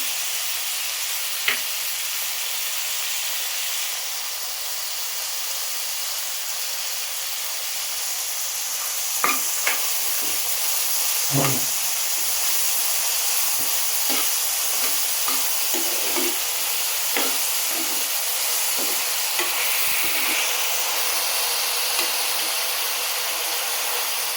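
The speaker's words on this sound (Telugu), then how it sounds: "కొంచెం రంగు మారేదాకా వేపుకోవాలి." Sliced onions with salt fry in a pan for an Andhra-style broad beans mutton curry, giving a steady close sizzle with occasional scrapes and clinks of stirring.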